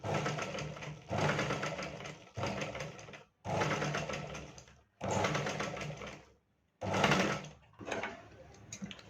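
A domestic sewing machine stitches golden lace onto a small blouse patch in bursts of steady mechanical whirring, each run lasting about a second with short quiet pauses between, close and fairly quiet.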